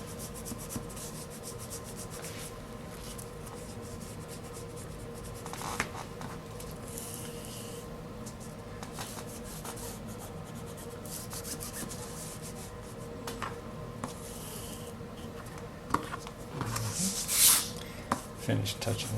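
A bookbinding folder rubs headband material down along a book spine, making close, repeated scraping and rubbing strokes with occasional taps and a louder burst of rubbing near the end.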